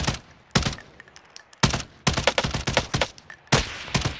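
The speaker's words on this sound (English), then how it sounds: "I'm shooting at them." Bursts of video game gunfire in a shooter match, several sharp volleys spaced through the clip, with short rapid strings of shots cracking loudly against a quieter background.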